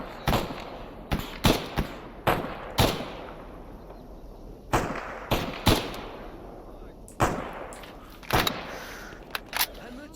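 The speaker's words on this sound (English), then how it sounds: "I'm gonna stop shooting." Gunfire in the video game Stalker Anomaly, near a hangar with duty soldiers, cracks out as loud single shots and short bursts at irregular intervals, each leaving a brief echoing tail.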